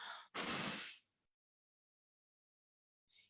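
One long, steady blown exhale, like blowing on a feather during a breathing practice, follows a short breath and ends in silence. A brief breath returns at the very end.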